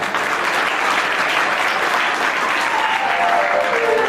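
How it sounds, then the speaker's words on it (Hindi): A seated audience at a satsang gathering held at a public school in Indore claps steadily in a dense, even wash of applause that holds at full strength for several seconds. "आप ताली भी बजाते हो।"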